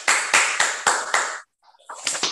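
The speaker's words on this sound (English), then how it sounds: "let us welcome her with a round of applause." Sparse clapping welcoming a lecturer at a women's wing lecture event, five sharp, evenly spaced claps followed by a short pause and then a few more scattered claps, close and clear.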